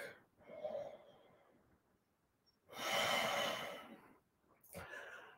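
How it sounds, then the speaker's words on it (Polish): Long, deep breaths taken during a yoga lesson with the diaphragm lifted high: a soft exhale, then a longer, louder rush of breath, and a short sharp intake at the end, close and with no talk. "długi, głęboki oddech."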